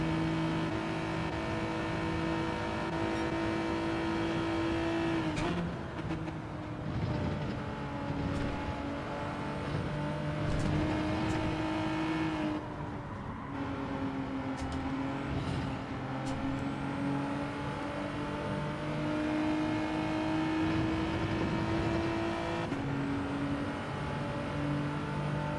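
Group 4 race cars, including a Mazda 3 and a pursuing NSX, roar around the Watkins Glen short course in Gran Turismo 7, with sustained engine drones rising and falling through several gear changes and no talk.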